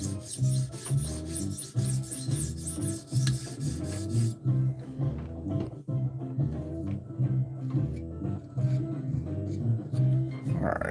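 A knife with a drop-point, belly-curved blade is stroked over a sharpening stone, giving steady repeated rasping rubs close by, with a brief lighter pause near the middle before the strokes resume.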